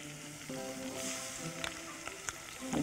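Sauce hitting a hot pan for an eggplant rolls dish, a bright steady sizzle that swells after the pour, with a few clinks of a utensil against the pan.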